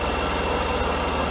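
A Mercedes W124 300E engine idles steadily while warming up, giving a close, even low throb with a constant mechanical hum and no talk.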